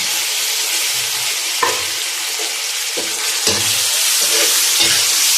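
Tomatoes and green chillies hit a pan of golden-fried onion and garlic and sizzle steadily, with several scraping stirs of a spoon at close range and no one talking.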